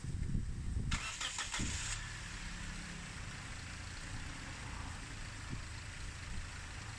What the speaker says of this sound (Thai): เดี๋ยวมาฟังเสียงเครื่องดีกว่านะครับผม